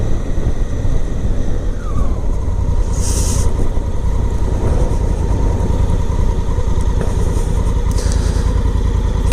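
A 2017 Honda Africa Twin motorcycle rides along on a daily commute, its engine droning steadily and loudly throughout with constant wind and road rumble, no talking.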